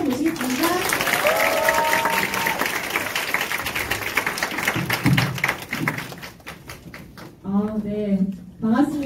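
Audience clapping at a Nu Skin business seminar welcoming a speaker to the stage, dense applause with music and voices mixed in, thinning out as a voice begins talking near the end.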